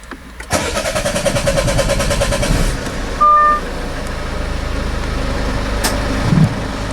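A 2.0 BlueHDi diesel car engine cranks briefly, catches with a roar, then settles into a steady, rattling idle close by.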